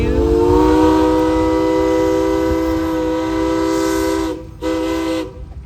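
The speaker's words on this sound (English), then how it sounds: "Sounds like a locomotive whistle too." A steam locomotive whistle blows at a steam and gas engine parade in the Shenandoah Valley: one loud, close, steady tone held for about five seconds, briefly cutting out near the end, over a rumbling background.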